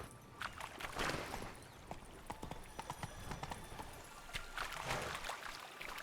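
Horse hooves clip-clopping in The Witcher 3: Wild Hunt, a quiet, steady trotting rhythm of distinct hoof strikes at moderate distance.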